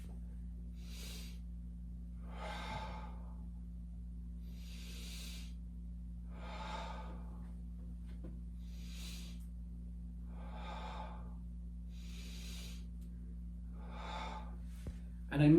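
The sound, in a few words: deep belly breathing technique for body armor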